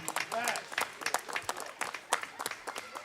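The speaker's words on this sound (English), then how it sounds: "Give him a round of applause" Scattered audience clapping for a speaker at a community meeting in South Jamaica, Queens, fairly faint and uneven, mixed with people talking.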